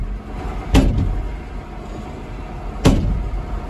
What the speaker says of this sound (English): the door won't close.